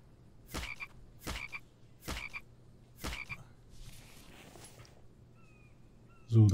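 A frog croaks in a survival video game, four evenly spaced rasping croaks close by, followed by quieter rustling and a sudden louder thump at the end.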